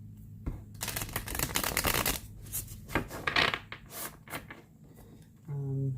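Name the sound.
shuffling a deck of cards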